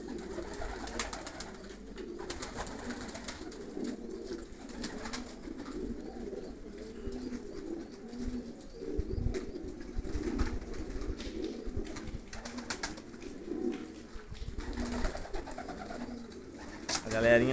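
Pigeons on a rooftop loft coo in a steady low murmur over outdoor background noise, with occasional wing flaps and someone talking at times.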